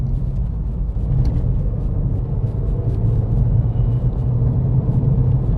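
A SEAT Ibiza FR 1.8T hatchback is driven fast down a B road, heard from inside the cabin as a steady, loud low engine and road rumble with no pauses.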